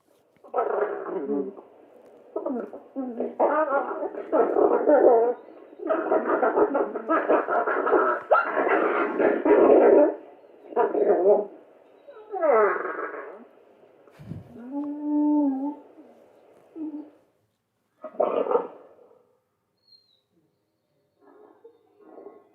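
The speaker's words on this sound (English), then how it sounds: "what it might sound like if you have interactions between different wolves" Yellowstone wolves interacting at close range, trading a string of high whimpers, whines and short yips in uneven bursts, with brief pauses and quieter calls toward the end.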